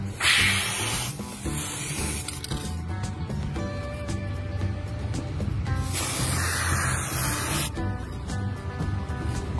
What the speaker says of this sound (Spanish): El día de hoy vamos a trabajar con nuestra vaselina en spray.